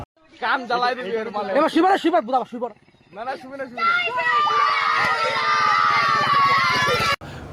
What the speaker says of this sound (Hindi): बच्चे एक मुस्लिम फेरी वाले को घेरते हैं और जय श्री राम के नारे लगाते हैं।